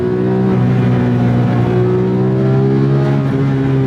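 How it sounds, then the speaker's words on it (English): Porsche 997 GT3 engine in sport mode climbing toward redline, a loud, sustained metallic howl with rising harmonic pitch heard from inside the car. "You gotta love that metallic motorsports inspired sound,"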